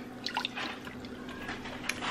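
A few drops of Worcestershire sauce falling into beef stew in a Ninja Foodi pressure cooker, soft close liquid drips and small splashes over a low hum.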